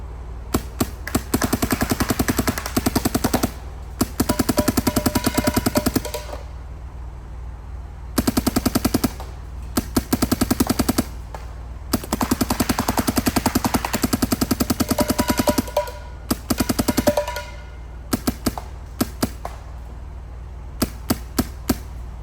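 A Dye MXR paintball marker fires in rapid sharp bursts, each string of shots crackling like a fast machine gun, close and loud, separated by short pauses.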